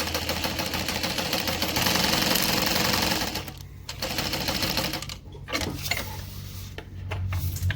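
A sewing machine bastes a zipper in place with a 1/8 inch seam, its needle chattering in fast steady bursts that stop briefly and restart several times, loud and close.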